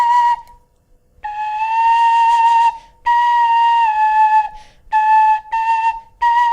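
A Clarke tin whistle with a wet wooden block plays a series of sustained notes, clear and close, in several phrases separated by short pauses, with slight pitch bends at the ends.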